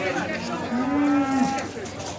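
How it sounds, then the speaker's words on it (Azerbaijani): A calf at a livestock market in Beylagan gives a single drawn-out moo, close and fairly loud, over a murmur of market background noise. "Hamısı o belə cis danalar."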